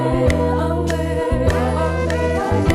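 Metronome clicks tick in a steady beat over a looped 1974 soul music sample, the clicks sitting as regular sharp transients on top of a warm, continuous bass and chord bed.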